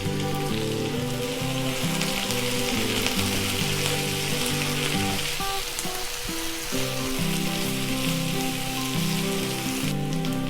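Sliced onions with green chilli and curry leaves fry in a pan for a side dish for chapathi, giving a steady close sizzle throughout with occasional faint stirring and no talk.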